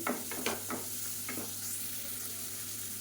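Ingredients for a bone soup sizzle in a hot pan while being stirred, a few quick scraping strokes at the start, then a steady close frying hiss.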